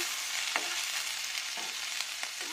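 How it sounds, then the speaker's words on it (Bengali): Potatoes and onions fry in a hot pan with a steady, close sizzle, broken by a few soft scraping stirs; no one talks. "একটু ভাজা যাক আলু পেঁয়াজটা"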